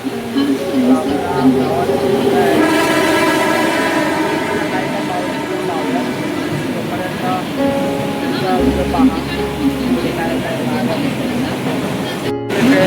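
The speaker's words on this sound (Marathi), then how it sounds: "ट्रेन पण आलेली आहे." A suburban train pulls into a Mumbai station during a sudden rain shower, a loud continuous rumble and rush of carriages blended with the wash of rain, steady throughout with crowd noise in the background.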